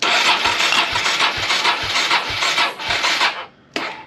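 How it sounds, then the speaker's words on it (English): A 2003 Suzuki SV650S motorcycle engine cranks over with the throttle held wide open, a steady whirring starter with regular compression pulses about twice a second, pausing briefly before cranking again. "So you got to hold the throttle wide open and crank it."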